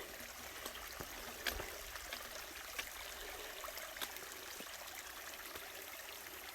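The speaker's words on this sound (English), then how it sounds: "Here's this little creek" A small creek flows and trickles steadily at close range, with occasional brighter splashes and gurgles over the constant rush of water.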